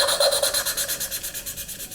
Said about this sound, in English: It makes this grinding noise.